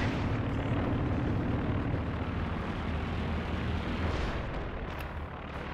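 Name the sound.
Werfer rocket artillery barrage in Company of Heroes 2 video game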